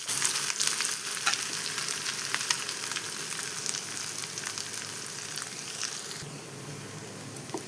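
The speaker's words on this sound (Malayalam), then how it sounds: "ഇതെല്ലാം മിക്സ് ചെയ്ത് ഒരു ഗോൾഡൻ ബ്രൗൺ നിറമാകുന്നതിന് നമുക്ക് വറുത്തെടുക്കാം" Small onions, garlic, ginger and grated coconut roast in a pan for a chicken curry, a loud continuous sizzle with occasional scraping stirs and no voices.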